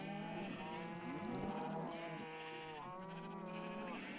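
Blocky sheep in the game Minecraft bleat several times in a row, the wavering calls overlapping at close range over quiet game ambience.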